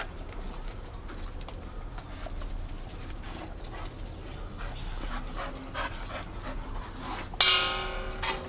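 A puppy breathes in quick, close panting puffs with faint whimpers, soft and steady, ending in a sudden brighter squeak near the end.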